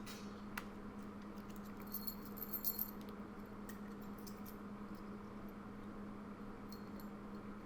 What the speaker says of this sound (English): So you'll just place in one of the keys